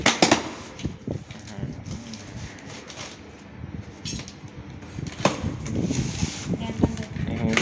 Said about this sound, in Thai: นี่กำลังแกะนะ